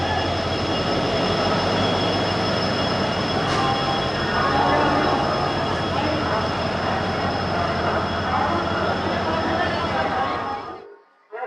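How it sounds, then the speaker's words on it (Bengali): The Coromandel Express pulls into a station: a loud, continuous rumble of rolling wheels and carriages with faint squeals, lasting about ten seconds before cutting off abruptly. "আমার ট্রেন চলে এসছে এখন"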